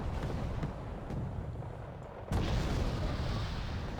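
Mortar fire in the war strategy game Wargame Red Dragon: rumbling low booms over a dense battlefield din, with a sudden louder blast partway through that leaves a sustained roaring wash.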